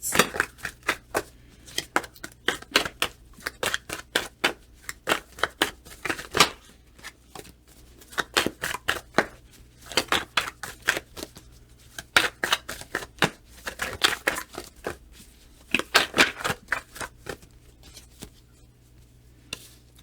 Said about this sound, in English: Quite a few things slipped over here, but we're going to shuffle again.